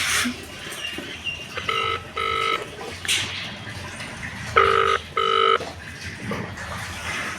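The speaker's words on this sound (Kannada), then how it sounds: "ಇವಾಗ ನಮ್ಮ ಅಕ್ಕಂಗೆ ಕಾಲ್ ಮಾಡ್ತೀನಿ." A ringback tone from a mother's mobile phone on loudspeaker plays in paired bursts, two near the start and two more a few seconds later, over faint room noise.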